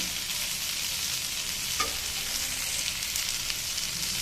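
Vegetables fry in hot oil in a pan on a gas stove, giving a steady, even sizzle throughout with a faint stir or utensil tap partway through and no talking.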